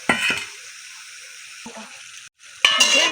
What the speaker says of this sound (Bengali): এখন এই যে আলু দিয়ে অল্প কষিয়ে নেবে